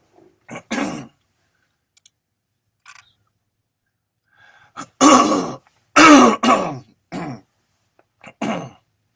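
A man repeatedly clears his throat during a talk, several short rasping bursts separated by silence, the loudest cluster coming in the second half, close to the microphone.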